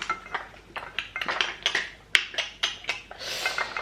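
A frying pan and saucepan clank and knock in a quick irregular series of sharp, close handling sounds, with no talking.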